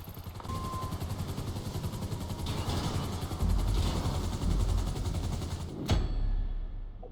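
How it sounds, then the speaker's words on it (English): A helicopter arrives in Grand Theft Auto Online, its rotor thumping in a rapid, steady rhythm that grows louder and closer, with a sharp burst near the end. "Chopper should be inbound."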